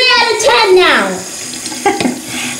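Water splashes and runs as a Baby Jaguar toy is washed in a tub or sink, mixed with a child's excited chatter and a sliding vocal sound.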